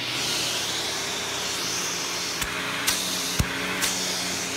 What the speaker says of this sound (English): It's always a good idea to switch the vacuum over to tools so you can get extra suction